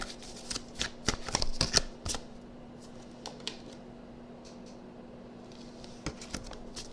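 Tarot cards are shuffled up close in quick riffling bursts, then a few softer isolated card taps and slides in a quiet room.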